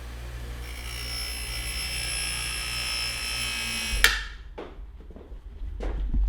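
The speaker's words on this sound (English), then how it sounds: "Just grind the crimp part off, and then this thing ought to pop right off." A grinder whirs steadily against the crimped metal part of an ATV carburetor, a close high whine lasting about four seconds before cutting off, followed by a few sharp knocks and clatter.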